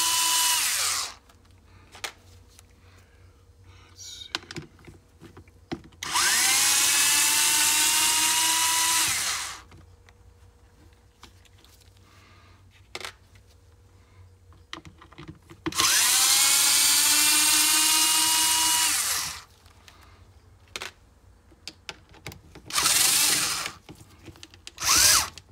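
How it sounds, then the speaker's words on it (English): A power drill fitted with a Torx bit backs Allen screws out of a vehicle differential, whirring loudly in two long bursts of a few seconds each, with short clicks and clanks of tools in between. "And I know I'm using a Torx bit to take out Allen screws."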